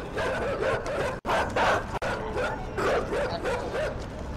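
Dogs bark and yip repeatedly in the game Inside, a fast, agitated run of overlapping barks with brief whimpers and two sharp cut-offs, loud and close throughout.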